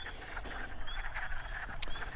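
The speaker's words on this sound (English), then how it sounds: "These uh, male wood frogs are calling to attract a mate" Male wood frogs calling from a vernal pool in spring, a dense chorus of short clucking croaks repeating steadily at moderate distance over a low background rumble.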